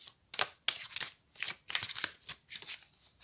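Tarot cards being shuffled by hand in a quiet room, a steady series of crisp riffling bursts and soft slaps in an uneven rhythm, close and fairly quiet.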